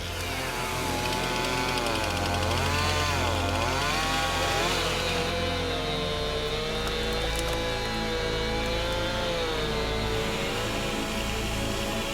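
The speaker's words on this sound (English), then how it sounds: "2 chainsaws are making all the difference" Two chainsaws whine and rev continuously while clearing trees, their pitch rising and falling as they cut, loud and close with a steady engine drone underneath.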